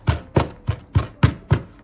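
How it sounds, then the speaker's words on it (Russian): A knife finely chops parsley on a board, six sharp, evenly spaced close thuds about a quarter second apart, with no talk over them. "Нарезаем мелко. Помельче нарезаем."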